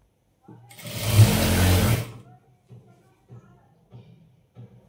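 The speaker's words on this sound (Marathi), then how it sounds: "इथे वरतून टीप मारून घ्यायची आहे आता आपल्याला" A sewing machine top-stitches a piped sleeve lining, one short, close whirring run of about a second and a half, followed by quiet handling noises and someone talking softly.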